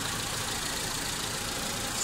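A Mitsubishi Lancer engine idles steadily during coolant bleeding, a constant close mechanical drone with no talking.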